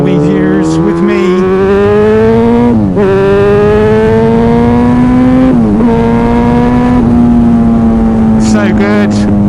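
A motorcycle engine rides along the road, a loud, close, steady drone with a strong pitched hum that rises and dips slightly as the throttle changes, briefly easing off a couple of times.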